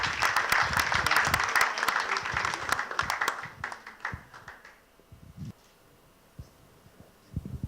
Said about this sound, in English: A huge round of applause for our chief.